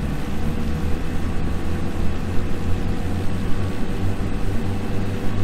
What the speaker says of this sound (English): to increase power, I increase the prop first, then I increase the throttle